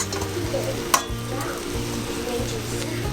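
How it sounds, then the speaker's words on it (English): Taco-seasoned chicken breast searing in a pan, a close continuous sizzle with a low pulsing hum underneath and one sharp clink partway through. "I'm just gonna sprinkle some of this taco seasoning on it before I sear it."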